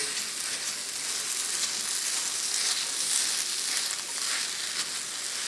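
Bubble and squeak of mashed potato and vegetables seasoned with kosher salt and black pepper, frying in a pan with a steady, even, close sizzle throughout.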